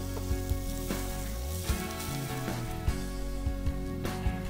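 Thick beef rib strips (Galician beef) sizzle bone-side down on a grill over strong and moderate heat, giving a steady loud crackling hiss with scattered sharp pops throughout.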